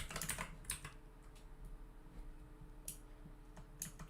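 Keys clatter on a computer keyboard while code is typed for a Discord bot dashboard, in a few quick bursts of soft clicks with short pauses between, close and quiet with no talking.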